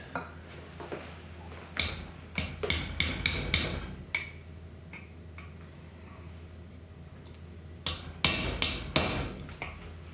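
A hammer taps a punch to seat an angled adjustable gas block on an AR rifle barrel held in a vise, striking in two quick bursts of sharp metallic raps separated by a quieter pause.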